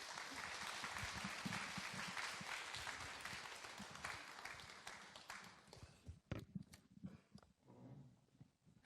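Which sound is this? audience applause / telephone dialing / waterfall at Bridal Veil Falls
audience applause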